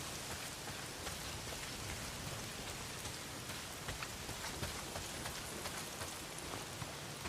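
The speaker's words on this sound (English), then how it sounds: "Well, not if it's pissing down rain." Heavy rain in the video game Days Gone pours steadily, a dense hiss of drops with scattered louder splatters, continuous and fairly soft throughout.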